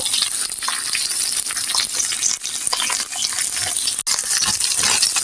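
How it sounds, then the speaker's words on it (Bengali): A few prawns fry lightly in oil for a coconut prawn bhuna, a loud, dense, continuous sizzle and spatter close up, with a momentary break near the end and no speech. "হালকা একটু আমি এপিট উপিট করে ভেজে নেব"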